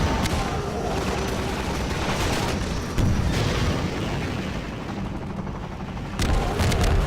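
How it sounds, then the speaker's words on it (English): Relentless gunship gunfire from Half-Life 2: Episode One, a dense, continuous barrage of loud booming shots and impacts with a few sharper bursts and no pauses. "the gunship's fire is relentless"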